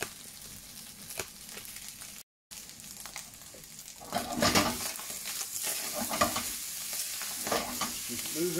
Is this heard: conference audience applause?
no